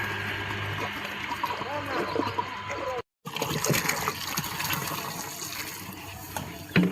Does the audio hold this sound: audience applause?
no